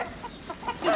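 Chickens cluck close by in a quick run of short calls, growing louder and busier toward the end of the brief burst.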